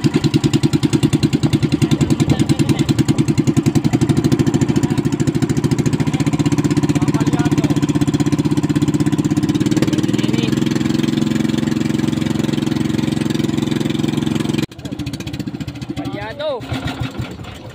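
Motorcycle engine idling and misfiring, a loud, close, uneven rapid putter that stumbles before cutting out abruptly near the end, then restarts more quietly, with people talking nearby.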